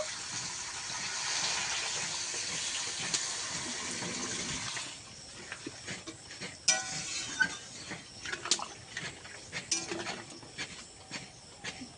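Water is poured into a pan of ridge gourd coated in spices, a gushing pour for the first few seconds followed by quieter clinks and scrapes of utensils against the pan.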